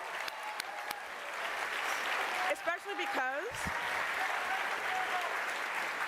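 Steady applause from a crowd fills the whole stretch, with a voice speaking briefly partway through.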